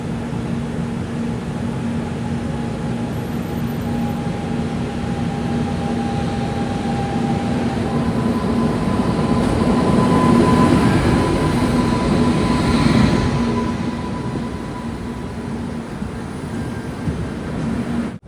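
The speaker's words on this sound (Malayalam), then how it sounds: "മറ്റൊരു വണ്ടി കൂടി ഇതുവഴി കടന്നു പോവുകയാണ്. ദിബ്രുഗഡ് ന്യൂഡൽഹി രാജധാനി. ഇത് ഇലക്ട്രിക് ആണ് ലോക്കോമോട്ടീവ്." An electric locomotive hauls the Dibrugarh–New Delhi Rajdhani past, a steady broad rumble with faint tonal hum that swells to a peak near the end before easing off, with no voices.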